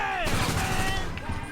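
Gunfire in the video game GTA V, a rapid burst of shots crackling loudly throughout, with a voice talking over it.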